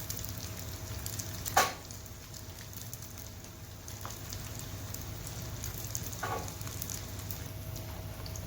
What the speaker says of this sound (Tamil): நல்லா கோல்டன் ப்ரௌன் கலரில் ஃப்ரை ஆனதும் இட்லிஸை வந்து எண்ணெயிலேருந்து எடுத்துருங்க.